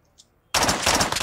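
Automatic gunfire from the mobile shooter game Call of Duty Mobile erupts abruptly after a near-silent pause, a dense, loud, continuous rattle of rapid shots filling the rest of the moment.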